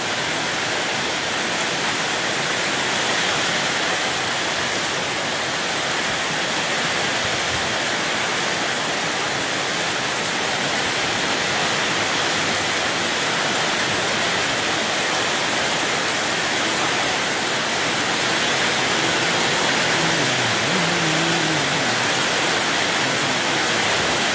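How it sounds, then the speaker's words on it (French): Dense, continuous rush of heavy thunderstorm rain at a bungalow in Isan, Thailand pours down without letup, loud and close, filling the whole stretch. "Voilà, voilà, ça pleut, ça pleut."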